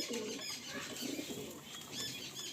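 Pigeons in a breeder's loft, a mixed flock, giving soft low coos with brief wing flutters, steady and fairly faint against a busy background of chirps.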